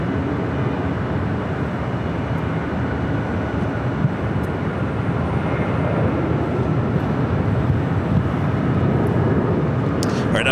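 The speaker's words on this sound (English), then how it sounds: "767-400ER." A Boeing 767-400ER airliner at LAX gives off a steady, broad jet roar that holds loud and even throughout, with a faint voice briefly underneath.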